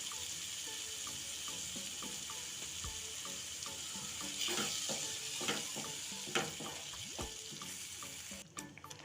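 Paste from two medium tomatoes, salted, cooks in a pan for a creamy makhana curry, giving a steady soft sizzle broken by occasional light utensil taps and stirs.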